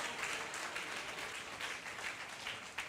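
A church congregation at a sermon claps together in dense, sustained applause that holds steady at moderate volume throughout, with no voices over it.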